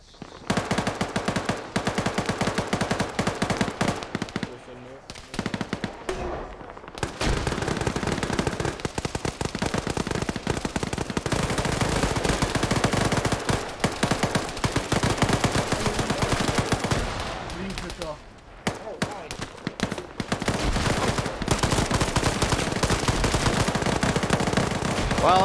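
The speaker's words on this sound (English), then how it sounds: "A lot of blind fire going out as well." Loud, dense automatic gunfire from a multiplayer shooter game, with players blind-firing, rattles almost continuously in rapid bursts. Two brief lulls break up the barrage.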